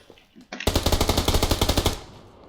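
Rapid automatic gunfire from a PUBG Lite match, a loud, dense burst of about fifteen evenly spaced shots lasting around a second and a half, preceded by a brief click and followed by a fading tail, with no talk.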